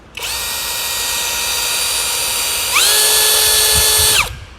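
A cordless drill with a hammer function for concrete runs free with a loud, steady high-pitched whine, jumps to a higher speed partway through, then stops abruptly.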